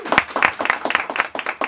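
Birthday party guests applauding with rhythmic, close claps in quick bursts, loud and fairly regular, with no speech over them.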